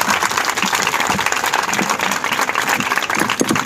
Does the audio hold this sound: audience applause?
yes